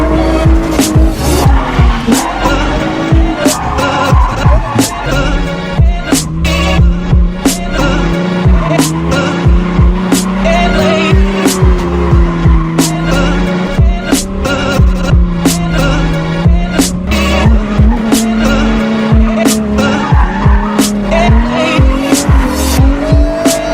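Ford Mustang 5.0 drifting at a drift event in Drums, Pennsylvania, with a loud, continuous tire squeal and a wavering V8 engine tone over the whole run, while engine pulses and bumps jolt through it.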